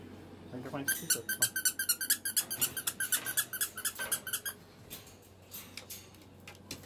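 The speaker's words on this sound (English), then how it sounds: "You found a squeaker on Snoopy." A squeaker in a plush Snoopy toy squeaks in a rapid rhythmic series of close, bright chirps, then tapers into a few softer, scattered squeaks.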